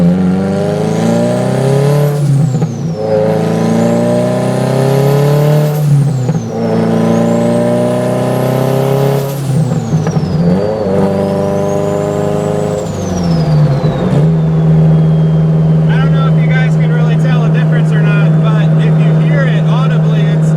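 A Subaru GC8 with engine and timing changes revs repeatedly while driving, rising and falling through several gear pulls before holding a steady drone, loud and close throughout.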